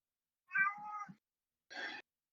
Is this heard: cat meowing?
yes